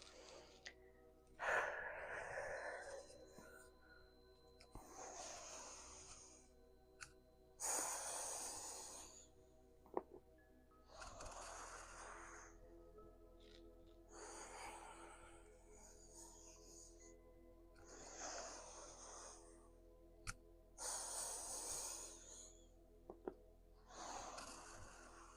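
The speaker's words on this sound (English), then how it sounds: "I don't know if you can hear my breathing." Slow, deliberate yoga breathing, each long inhale and exhale a soft airy whoosh, about eight full breaths close to the microphone, unhurried and alone.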